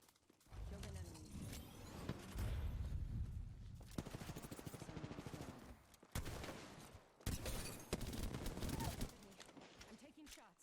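Rapid bursts of automatic gunfire in the video game Apex Legends, several sharp clustered volleys separated by brief pauses, loud and close, with gameplay mechanisms and faint voices mixed in.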